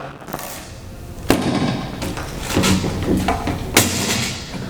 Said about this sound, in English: I managed to pick up the grenade and throw it through the window before it exploded